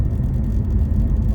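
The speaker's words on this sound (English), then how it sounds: "sorry about the road noise." Low, steady rumble of road noise inside a moving Honda CR-Z hybrid with a six-speed manual, a continuous droning hum with no voices over it.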